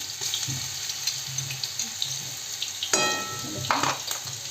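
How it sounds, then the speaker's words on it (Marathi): Green chilli thecha made from hot lavangi chillies sizzling in a hot kadhai, a steady soft fry with stirring scrapes and a couple of louder bursts of clatter or splashing partway through. "आता मी ह्याच्यामध्ये ना हिरव्या मिरचीचा ठेचा घालून घेते"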